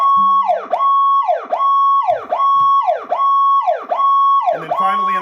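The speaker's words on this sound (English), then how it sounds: "after your high-low tone is the thefierstienbrand Powercall Emergency Siren tone, which is the best sounding Powercall in the industry today" A Powercall UDX7 emergency siren on its Powercall tone repeats a loud, close electronic wail about six times, each cycle sweeping down and then snapping back up to a held high pitch. No one speaks.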